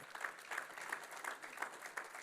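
A church congregation claps in praise, a steady rhythmic beat of many hands at roughly three claps per second, soft and distant, without speech.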